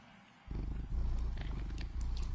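A cat purrs softly and close by, a steady rhythmic low rumble that begins abruptly after a short quiet moment and continues evenly, with faint crackles above it and no talking.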